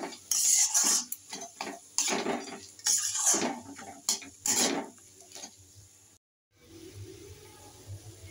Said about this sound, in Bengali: দিয়ে ভালো করে নাড়াতে থাকবো।